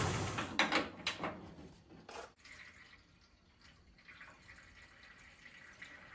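Water spraying into the radiator of an idling 1971 Dodge Super Bee, heard as a bright hissing burst with splashy clatter over the first couple of seconds, then a softer steady spray and trickle.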